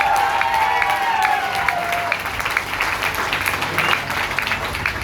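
A crowd at a company event breaks into loud, sustained applause with some scattered cheering and crowd noise, the clapping dense and continuous throughout.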